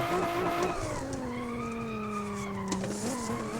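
A Nissan 350Z drifts through heavy traffic in a racing video game, one long continuous tire squeal with a steady engine tone underneath, fairly close and sustained throughout.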